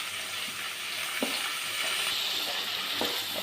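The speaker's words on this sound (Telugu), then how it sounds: "అదే నూనెలో ఉల్లిపాయలు వేసేసుకుందాం" Sliced onions and green chillies sizzle in the leftover oil from frying fish for a tomato and dried-fish curry, a steady bright crackle with a few soft stirring knocks and no voices.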